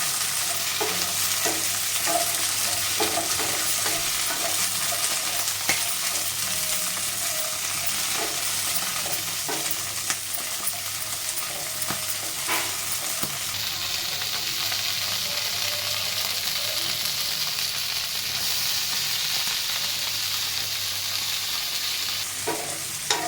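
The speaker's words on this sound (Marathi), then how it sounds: "आपल्याला इथे छान असं परतून घ्यायचं आहे। मीडियम गॅस होते" Green peas sautéing in a pan over a medium gas flame, a steady continuous sizzle with frequent stirring scrapes and taps close by, no voices.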